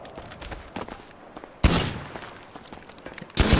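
Rapid bursts from a Glock pistol fitted with a beam switch in GTA FiveM, two loud dense volleys of fast automatic fire following quieter scattered shots, up close.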